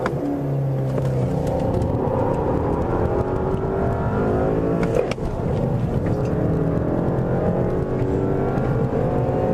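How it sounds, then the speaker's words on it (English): A 2013 Volkswagen CC R-Line engine accelerating hard, a loud, steady rising drone heard from inside the car with a brief dip midway, no talk over it. "When it spools up, it's awesome."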